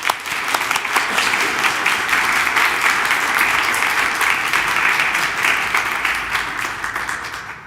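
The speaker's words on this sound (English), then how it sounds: "I think we need another round of applause welcoming our new members." A congregation applauds steadily to welcome new members at a church service, a dense, sustained wash of clapping that holds evenly throughout and tapers slightly at the end.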